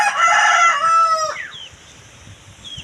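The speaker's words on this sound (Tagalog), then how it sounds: "Ayan, meron tayong alagang manok" Backyard chickens kept on a small garden plot: a rooster crows loudly and close for about a second and a half, then the call breaks off into quieter scattered clucks and bird calls.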